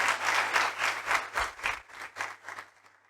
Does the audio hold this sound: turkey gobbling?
no